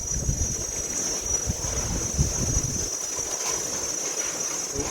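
Strong wind blowing outdoors, a steady rushing buffet with gusty low rumbles against the microphone that ease off toward the end, alone with no voices.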